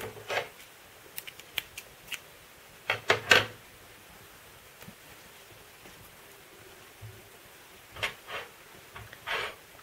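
Scissors snip mohair crochet yarn in a few quiet, crisp cuts spread across a hushed room, with a cluster of close clicks in the middle and a couple more near the end.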